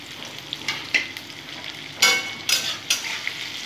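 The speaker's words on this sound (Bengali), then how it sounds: "সব মশলা দিয়ে ভালো করে সাঁতরে নেব।" Potatoes fry in a pan with salt, turmeric, cumin, coriander and chilli powder, giving a soft steady sizzle broken by sharp scraping stirs.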